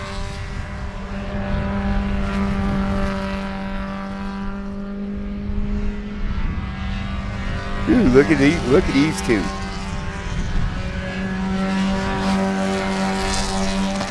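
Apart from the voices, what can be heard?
race cars passing closely on track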